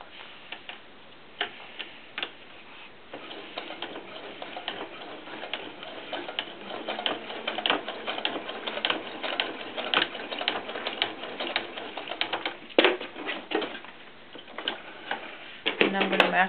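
Home sewing machine stitching a narrow elastic strap on a small doll shoe, with a quick run of needle ticks and short pauses, close and moderately quiet.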